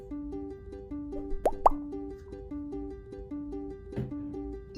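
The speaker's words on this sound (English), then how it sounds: "It's time for the activator. Only a few drops." A few drops of activator fall into slime mixture from a JoJo Siwa slime kit, giving two quick soft plops and a later wet drip over steady light background music, with no talking.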